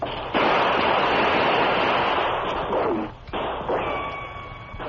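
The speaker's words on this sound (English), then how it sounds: "Shots come from every side of building." Gunshots fired from every side of a building in a radio drama, a dense, loud roar of overlapping shots and noise that drops out briefly before resuming.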